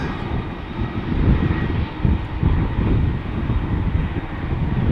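Airliner, an Airbus A330, taking off at Schiphol Airport: a loud, continuous broadband jet roar that swells and surges slightly over several seconds, with no talk.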